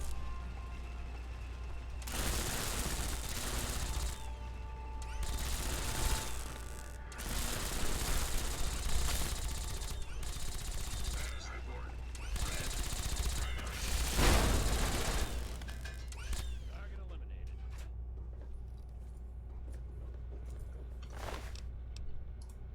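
Repeated heavy blasts in Fallout 3 as a grenade launcher fires, several loud booming bursts spaced a few seconds apart over a constant low rumble, fading into quieter ambience near the end.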